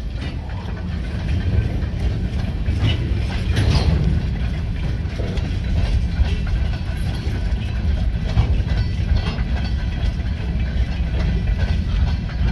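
A long freight train rolls past in a steady, loud rumble with clanking car mechanisms and rattles holding evenly throughout, with a brief voice near the start.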